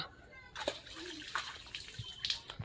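Water splashing and trickling as it is slowly poured away to uncover fish, faint and close, with intermittent splashes under children's and adults' voices.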